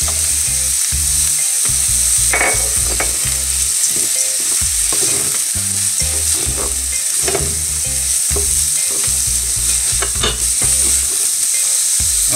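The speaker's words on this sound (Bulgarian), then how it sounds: "След морковите добавяме чушките." Bell peppers frying with carrots in an oiled pan, a loud close sizzle with repeated stirring and clinking of a utensil against the pan, no voices.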